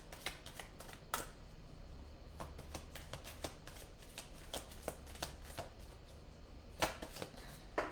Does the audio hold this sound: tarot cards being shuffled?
yes